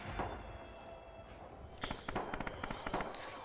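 Gunfire in the video game Red Orchestra 2, on the Bridges of Druzhina map: a fast burst of sharp, crackling shots following a single earlier report, fairly distant and subdued within the game's ambient noise.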